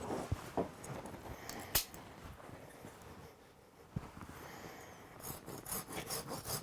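Rasping strokes of a small knife saw cutting through wood to carve a butter knife, close up and quiet, uneven in rhythm with a brief pause midway before the sawing resumes.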